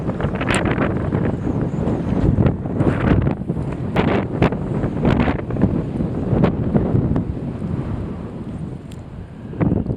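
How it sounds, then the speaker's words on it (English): Strong wind buffets the microphone on a choppy lake during spring bass fishing, a loud continuous roar with gusting surges and water slapping around a boat. "It's a lot windier and a lot choppier over here"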